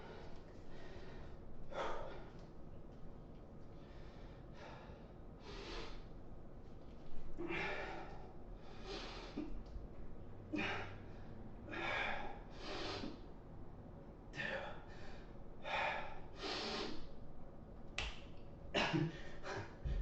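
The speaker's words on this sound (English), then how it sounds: "I get it, I'm breathing heavy, leave me alone." Heavy, rhythmic breathing from someone exerting themselves during a swinging workout, with repeated loud puffs and gasps spaced every second or so over steady background noise, close to the mic.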